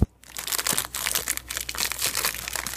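Close, loud crinkling and crackling of a plastic wrapper being torn open and peeled from a strawberry Kellogg's Special K protein meal bar, irregular bursts of rustling lasting nearly three seconds.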